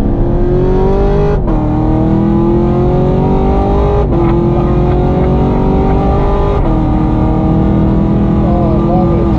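Car engine revving hard and climbing through gears, with three clear shifts marked by sharp pops and a drop in pitch, loud and close inside the car.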